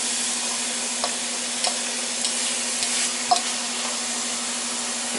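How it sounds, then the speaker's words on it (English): Turkey and hot sausage render in a hot pan with a steady, close sizzle and hiss throughout, broken by a few faint stirring scrapes. "So we'll start rendering this down, and then once it's all rendered down, I'll take the fat out of it."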